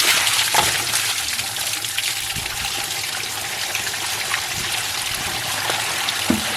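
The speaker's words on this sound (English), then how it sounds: "You just worry about pouring, Alright. and I'll put the strainer." Maple sap pours steadily through a strainer, a continuous watery trickle and gush outdoors with a small clunk near the end, no talking.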